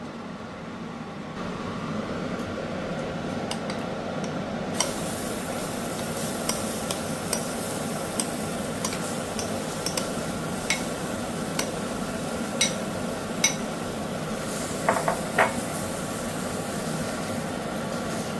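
Gram flour chila frying on a hot griddle gives a steady, close sizzle throughout, with a few faint clicks and taps over it and no talking.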